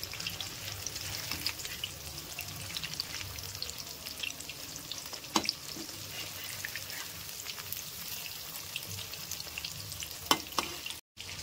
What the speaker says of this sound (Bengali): এবার চিকেনগুলোকে ভেজে নেব।